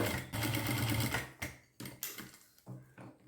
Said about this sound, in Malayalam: ഇതിൻ്റെ കറക്റ്റ് അളവിന് നമുക്കൊന്ന് അടിച്ചെടുക്കാം